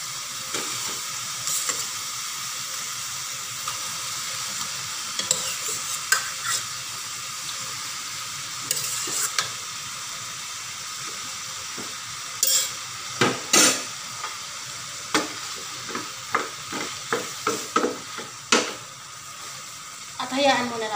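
Beef frying in a pan for a creamy beef mushroom dish, with a steady faint sizzle and repeated scraping clinks of a utensil stirring, growing busier toward the end.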